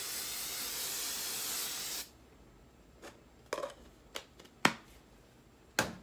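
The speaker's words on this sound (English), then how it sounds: "I've been using Tresemme hairspray" Tresemme hairspray sprays in one steady two-second hiss close by, followed by a few faint clicks and taps of handling in a quiet room.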